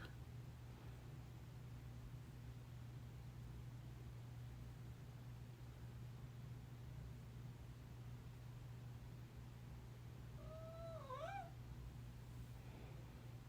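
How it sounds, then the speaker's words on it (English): A domestic cat gives a short two-part meow near the end, heard over a steady background hum with no talking. "Sorry, that was my cat."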